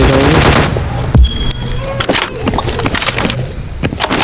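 Rapid bursts of gunfire crackle in the Scarfall shooter game, loud and close with sharp repeated shots scattered among other game noises.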